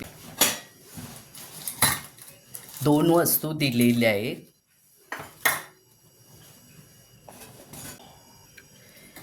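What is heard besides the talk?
handling a gifted heavy fry pan and kitchen items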